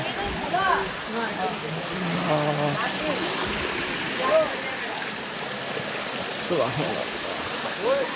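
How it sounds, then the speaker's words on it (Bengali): A small waterfall in hilly country pours in a continuous rushing wash of water, with voices talking over it at times. "এই ছোট আর একটা ঝর্ণা"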